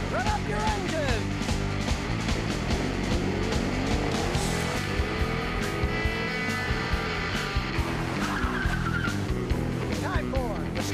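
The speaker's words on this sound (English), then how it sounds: "Run up your engine!" A car engine revs loudly and continuously with tire squeal and racing noise, busy and close, with some voices mixed in.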